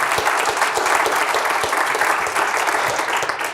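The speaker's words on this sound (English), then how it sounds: "another round of applause for the very busy Amanda Renteria" Steady, dense applause from a sizable audience fills the space, a continuous wash of clapping with no pauses.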